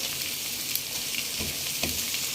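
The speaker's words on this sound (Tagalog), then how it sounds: "Nagluluto ako ngayon ng pork igado." Pork igado, marinated overnight and cooked without liver, sizzles steadily in a pan with a continuous bright hiss, broken by a few louder crackling pops.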